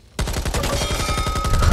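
M249 machine gun firing in Back 4 Blood, a sustained rapid automatic burst of loud, evenly spaced shots that starts abruptly after a brief quiet moment and runs to the end.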